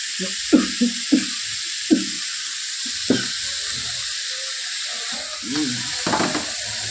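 Pieces of meat dropped and stirred in a hot frying pan while making vegetable chops, a series of sharp clanks and scrapes from a spatula over a soft steady sizzle, close and intermittent.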